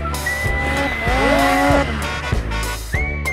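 A snowmobile engine revs hard during a wheelie, rising and falling in pitch through several sharp surges, loud and close.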